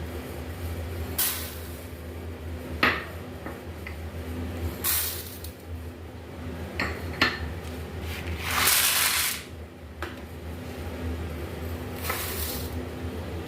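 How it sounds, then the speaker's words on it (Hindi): Dry lentils and red kidney beans pour and rattle into a large pot, giving a steady granular hiss with several louder rushing bursts, close and unbroken by speech. "इन सबको हमने एक बड़े बर्तन में डाल दिया।"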